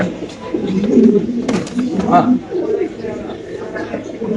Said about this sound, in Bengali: এখন দেখো আমরা এক জোড়া স্প্যানিশ কবুতর